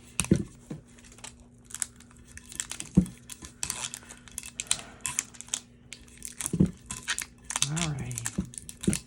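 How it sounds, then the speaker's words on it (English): Big blue tape torn and pressed onto a tumbler for sublimation, with crinkling, sharp ripping bursts and tapping handling noises, close by, while a person talks in between. "Okay, and then I'm gonna go over it with some big tape. Get a big piece of tape."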